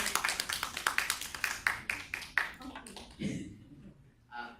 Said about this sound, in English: So give a round of applause for the experimenters.